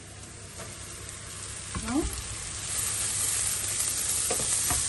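Salmon sausage sizzles in a frying pan, a steady close hiss that grows louder partway through, with a brief clatter of handling and a single short spoken word.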